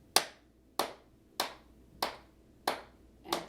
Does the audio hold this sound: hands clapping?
yes